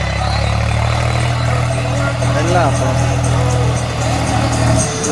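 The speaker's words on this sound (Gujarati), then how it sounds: "સામે અમારે દેવાજભાઈ ટ્રેક્ટર ચલાવે છે યાર" Tractor engine running nearby on a farm, a loud steady low idling drone with a sustained hum, while someone talks over it.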